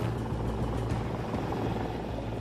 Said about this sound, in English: They divert a helicopter, which was taking tourists on a sightseeing tour,